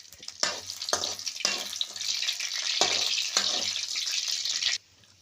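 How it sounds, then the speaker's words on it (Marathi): Garlic frying in hot oil in a kadhai gives a loud, close, continuous sizzle with several sharp bursts as it is stirred, ending abruptly into quiet. "इकडे थोडासा लसूण आपल्याला चांगला परतून द्यायचा आहे बघा तेलामध्ये"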